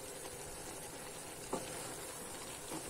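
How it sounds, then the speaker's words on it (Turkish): Fresh broad beans roasting in a pan give a faint, even sizzling hiss, broken by a couple of small crackles and pops. "Fasulyelerimiz bayağı bayağı kavruldu arkadaşlar."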